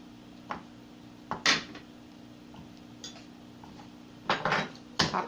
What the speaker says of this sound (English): I'm just going to cut the cheese up into some pieces.